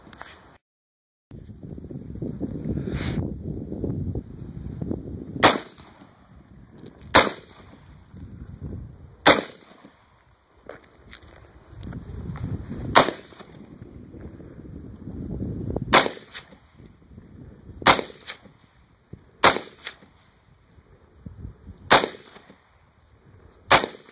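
A Bushmaster C15 rifle fires about ten sharp, loud shots at irregular intervals outdoors, with wind noise buffeting the microphone between them.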